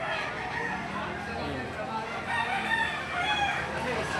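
A rooster crows among other fowl at an outdoor chicken sale, a drawn-out call rising above a busy, noisy background with people talking nearby.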